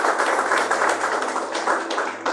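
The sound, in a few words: congregation clapping for Jesus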